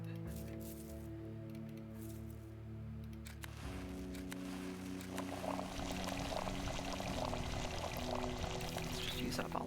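Water pours in Pathologic 2 while medicine is prepared, a steady liquid rush that builds and grows louder over a low tonal game drone, with no voices.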